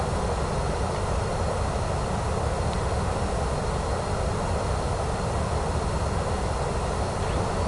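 A steady, dense drone of an aircraft engine in flight in Microsoft Flight Simulator 2024 runs unbroken and loud throughout, a constant roar with no speech over it.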